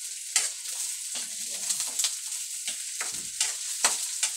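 Ginger cooks in a pan with bright, continuous sizzling and scattered scraping stirs, close and fairly loud, no talking.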